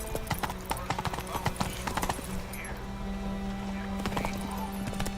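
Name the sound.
horse Roach galloping, from a video game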